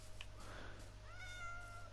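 A cat meows once in a Minecraft-style block game, a short plaintive call standing out over a steady low background hum.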